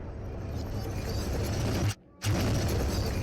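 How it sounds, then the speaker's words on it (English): A loud, dense rumbling blast fills the air in the game Into The Radius, cutting out abruptly for a moment before the heavy roar resumes. "There's an explosion."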